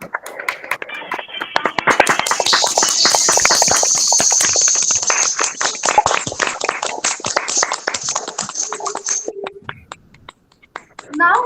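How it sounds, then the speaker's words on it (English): Audience applause at a foundation day ceremony, dense clapping that swells over the first seconds, holds steady, then thins out and stops near the end, with a voice heard faintly at the close. "Let's have a huge round of applause for our beloved guest educator."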